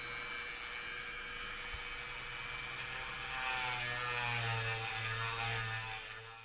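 A Dremel rotary tool whines steadily while grinding out the inside of a model rocket nozzle, its pitch climbing and its sound growing louder partway through over a low hum.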